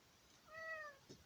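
A house cat lets out a single drawn-out meow, asking to go outside, quiet and fairly close in an otherwise hushed room.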